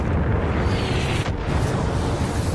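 A mortar shell explodes in Far Cry 5: a heavy, rumbling blast with a sustained low roar and debris-like crackle, loud and close, fading slightly then continuing without speech.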